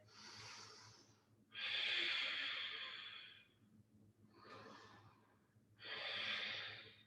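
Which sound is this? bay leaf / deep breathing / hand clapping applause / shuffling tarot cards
deep breathing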